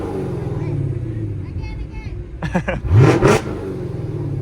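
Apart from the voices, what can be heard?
NASCAR Camaro engine revving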